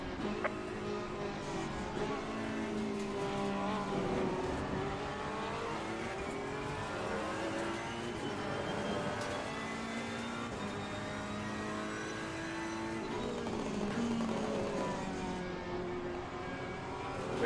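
Race cars in a racing video game at Paul Ricard circuit, a steady engine drone with rising and falling revs as the cars accelerate and shift, running continuously at moderate level with no talk over it.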